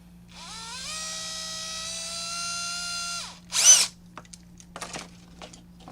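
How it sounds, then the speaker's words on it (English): A power drill enlarging a screw hole in a console-to-JAMMA adapter on a desk: a high whine that spins up and holds for about three seconds, then a short harsh burst and a few scattered clicks. "Very gently, because I don't really want to drill right into my desk here."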